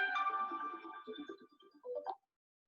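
A mobile phone rings during a class lecture with a short melodic ringtone of bright sustained tones, then choppier notes, and stops abruptly before the end.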